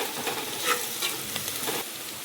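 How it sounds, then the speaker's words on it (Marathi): Turmeric and salt sauté in a pan for dal khichdi, a soft sizzle with scraping, stirring strokes close by and no talk. "हे परतून घ्यायचं।"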